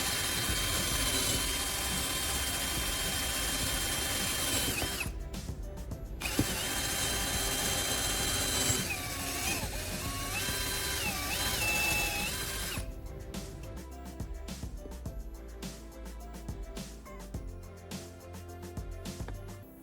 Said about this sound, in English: I'm using the drill again to bore 2 holes into the wooden block at the marked points.